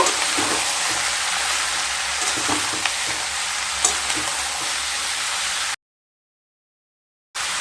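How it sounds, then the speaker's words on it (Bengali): Ash gourd is stirred with salt and turmeric in a hot pan, giving a continuous loud sizzle with occasional spoon scrapes, close by, then a brief stretch of total silence before the sizzling resumes. "দিয়ে দেব এক চামচ হলুদ গুঁড়ো দিয়ে চাল কুমড়োটাকে খুব ভালোভাবে মিশিয়ে নেব"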